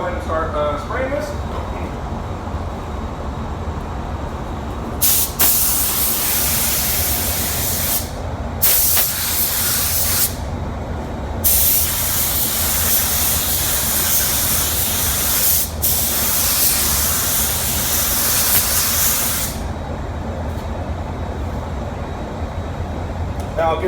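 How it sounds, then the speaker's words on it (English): A spray gun lays clearcoat onto a bumper on a white BMW 3 Series in loud, hissing bursts of several seconds each, separated by short pauses, over a low background hum. "Okay, I'm going to go ahead and start spraying this."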